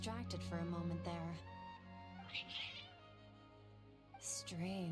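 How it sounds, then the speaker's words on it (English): Several cats in Genshin Impact meow one after another in drawn-out, rising and falling cries, close and fairly clear over a soft steady background tone, with a short break in the middle. "Your cats seem pretty worked up."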